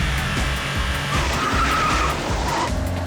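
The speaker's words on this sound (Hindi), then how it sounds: "गाड़ी और तेज चलाओ गाड़ी तेज।" Car tires squeal and skid loudly during a chase in a Hindi-dubbed Hollywood action movie, with a sustained screech over a revving engine and pulsing music.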